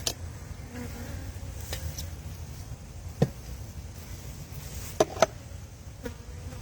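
Honey bees buzz steadily around an outdoor hive infested with beetles, a soft, continuous hum broken by a few sharp knocks and taps.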